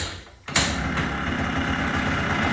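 Yamaha Blaster YFS200 ATV engine catching after a brief lead-in and settling into a loud, steady, high-pitched idle close by.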